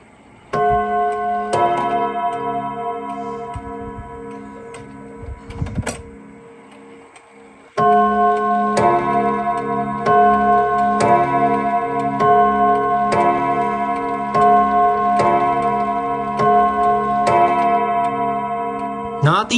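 Steady close ticking of a Japanese pendulum clock with a gold-plated pendulum, over a sustained ringing chime tone that fades, breaks off briefly, then resumes louder and keeps humming beneath the even ticks.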